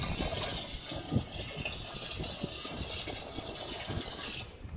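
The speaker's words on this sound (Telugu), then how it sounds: "మీ ముందు చూపించేదందుకోసం ఇంకొంచెం పోస్తున్నాం" Liquid pours steadily into a large container at a village farm, a continuous close gushing and splashing fill with no talk.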